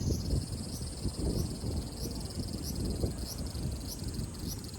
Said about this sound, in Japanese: 夏のセミの声は韓国も日本も同じですね。